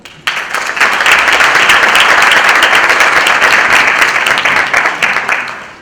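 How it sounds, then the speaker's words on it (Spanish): Loud, dense applause from a lecture audience welcoming a speaker to a conference on fascism in Mexico, swelling quickly and holding steady for several seconds before tapering off slightly. "Lo recibimos con un aplauso, por favor."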